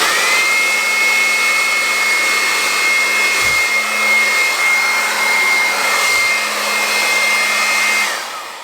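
A handheld electric air blower with a lock-on switch runs steadily at high speed for about eight seconds, a constant loud whine with strong airflow hiss, briefly dipping twice before winding down at the end.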